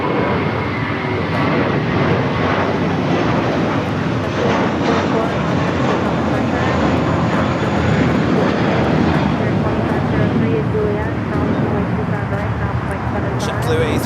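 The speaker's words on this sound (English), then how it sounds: "JetBlue A321 taking off" A JetBlue Airbus A321 jet takes off at LAX, its engines producing a loud, steady broadband roar that holds for the whole stretch without easing.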